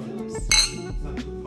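A clink of drinking glasses touching in a toast at home, one bright chime near the middle with a little chatter around it.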